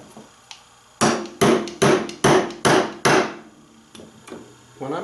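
A hammer drives 10-ounce upholstery tacks into the back rail of an 1870s Victorian chair, giving six sharp, ringing close blows in quick succession after a few lighter taps, with faint handling noise afterward.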